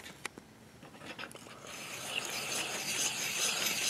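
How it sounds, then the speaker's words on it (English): A 300 Win Mag brass case being trimmed a tenth of an inch to form 358 Norma, with sharp clicks at first giving way to a steady, close mechanical whirring and grinding rasp that grows louder. "I've got to trim a tenth of an inch off of the case or so."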